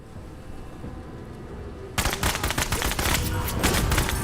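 Sustained automatic gunfire bursts out suddenly in the video game Menace after a quiet stretch, a rapid crackling volley of shots that continues close and loud to the end.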